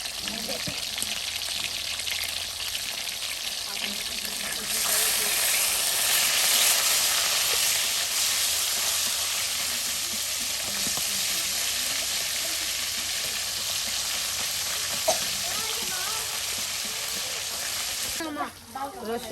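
Loud, steady frying sizzle from food cooking in hot oil in a pan for a traditional village dish, with occasional stirring clatter and a brief pause near the end.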